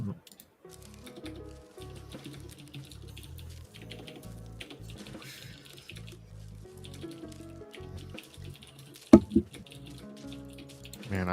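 Keys clatter on a mechanical keyboard with Cherry MX switches in quick, irregular bursts of light clicks, close to the mic, with a voice talking now and then.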